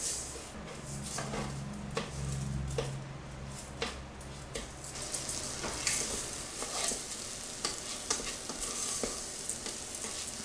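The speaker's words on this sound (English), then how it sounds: "Just stirring that all together, letting that rice brown up." Rice and tomato paste being stirred as they brown in a heated pressure cooker, with a steady sizzle and frying hiss throughout and repeated soft scraping strokes of the spoon, close and without talk.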